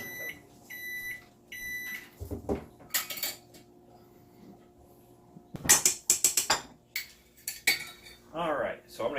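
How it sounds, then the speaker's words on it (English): A stand mixer's head is lowered and locked into place in a home kitchen while making donut dough, giving a series of metallic clicks, clunks and rattles, some sharp and close, with brief pauses between. "I'm going to go ahead and just put the head of the mixer down, lock it in place"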